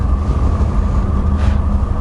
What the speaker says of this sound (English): I can hear the engines kicking in.